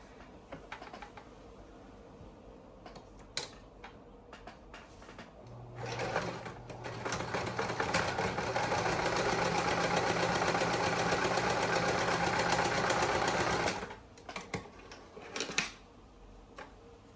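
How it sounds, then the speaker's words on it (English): Sewing machine closing the turned opening of a lined fabric piece: a loud, steady motor run of about eight seconds with a few short starts and stops before and after, heard alone. "So now we're just gonna sew this opening closed."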